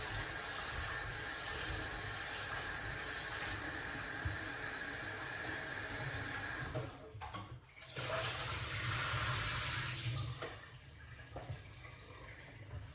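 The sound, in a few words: water running while washing food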